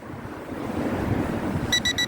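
Wind buffeting the microphone of a JJRC X25 GPS camera drone flying about 19 meters up, a steady, faint rumbling gust noise, with a brief electronic beeping near the end.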